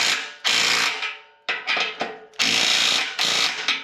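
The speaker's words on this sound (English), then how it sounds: "I'm gonna take my Ryobi 3/8." A Ryobi 3/8 power tool works on a car muffler, whirring loudly in several close bursts: a long run, a few short stuttering pulls, then a final sustained run.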